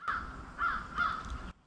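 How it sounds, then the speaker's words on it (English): A crow caws from a tree, three harsh calls in a quick row, fairly near and clear with nothing else over them. "called in a little crow pal for some assistance"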